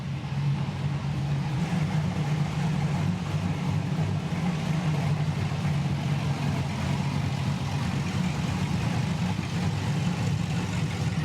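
Car engine fitted with a newly installed camshaft idles steadily, with a loud, continuous low-pitched rumble and a slightly lopey pulse throughout, no talking.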